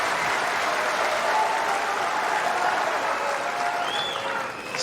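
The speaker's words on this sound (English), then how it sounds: "Still they cheer for Stan." Tennis crowd at the US Open applauding steadily in a large stadium, a dense wash of clapping that holds evenly before tapering slightly at the end.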